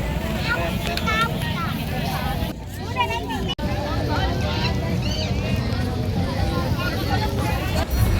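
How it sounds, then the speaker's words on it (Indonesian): Crowd babble at night at Pasar Sore Malioboro market in Yogyakarta, a dense steady murmur of many voices close by, with a brief dip and a sharp click partway through. "Pasar Sore Malioboro, pusatnya oleh-oleh"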